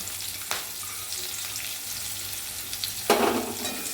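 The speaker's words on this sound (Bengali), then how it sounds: "তো পেঁয়াজটাকে ভালো করে লাল লাল করে ভাজবো" Steady hiss of chopped onions frying in a pan, broken by a few scraping stirs, one louder burst of sizzle near the end.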